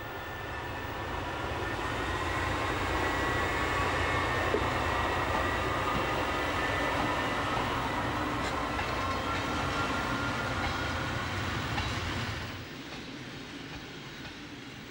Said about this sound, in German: In Stendal ist sie mit einem langen Holzhackschnitzelzug auf dem Weg.